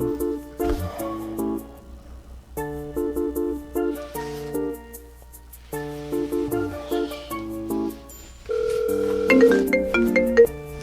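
A phone rings in repeated melodic bursts while someone is called again, a bright electronic tone sounding in short phrases with brief gaps, loudest near the end, in a skit at a middle and high school youth worship service.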